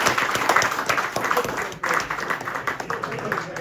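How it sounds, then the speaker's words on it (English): Audience applause at a cricket club awards ceremony, a fairly loud, dense patter of clapping from a room of people with a brief dip partway through, plus some faint voices mixed in. "a round of applause."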